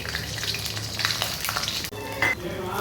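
Mustard seeds, urad dal, chana dal and curry leaves sauté in a pan, giving a dense, close, continuous sizzle and crackle with occasional stirring scrapes and no talking.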